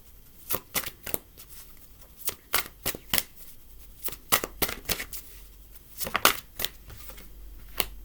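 Tarot cards are shuffled for a reading, giving a series of sharp riffling bursts in an irregular rhythm, close and clear with no talking.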